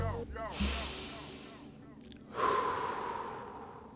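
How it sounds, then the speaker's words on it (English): A deep breath drawn in sharply, then a long, slow, hissing exhale after a pause, close and clear with no talking. "let's just take a breath together"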